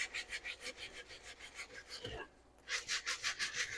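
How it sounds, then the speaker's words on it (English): A nail brush scrubs a Danner Bull Run moc toe leather boot with light pressure, giving quick rhythmic bristly strokes close up, with a brief pause before the scrubbing resumes. "Now I'm not scrubbing this with all my might. I'm letting the brush do the work."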